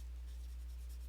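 A Prismacolor colored pencil scratches steadily across paper, layering color in a soft continuous rasp heard close and quiet, with no voices.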